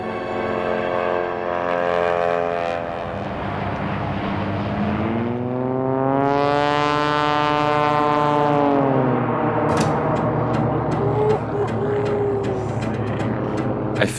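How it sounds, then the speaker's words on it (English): A small airplane's engine drones through a canyon, its pitch swelling and sweeping upward as the plane passes close, then falling away, with rattling wind noise toward the end. "Here's hoping the engine starts when I give it to it."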